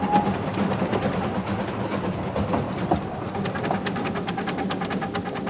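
A privately owned half-ton miniature steam locomotive runs along its track with a steady rhythmic chuffing and clatter, heard close and continuous with no talking.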